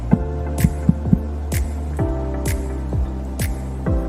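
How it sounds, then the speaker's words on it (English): Repeated light taps on T-shirt fabric stretched tight in an embroidery hoop for a Butterfly MiNi machine, each giving a short hollow drum-like thump, struck in an even rhythm close by. "You want to tap on it. Make sure it sounds like a drum."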